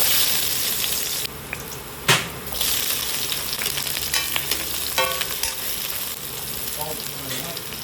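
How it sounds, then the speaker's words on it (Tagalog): Mussels frying for adobo cooked in coconut milk, a steady close sizzle with bubbling and occasional stirring clatter running throughout, no talking. "magluluto tayo ng tahong. Adobo sa gata na tahong."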